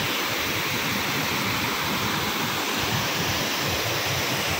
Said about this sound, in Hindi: एक बहुत खूबसूरत फुहारा है, बिल्कुल पूरा तो नहीं चल रहा, हल्का हल्का चल रहा